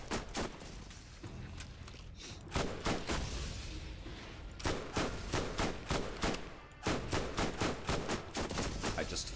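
Gunfire from shooting enemies in the video game Borderlands comes in rapid bursts of sharp, loud repeated shots, clustered volleys separated by brief pauses across the clip, with occasional talk in between.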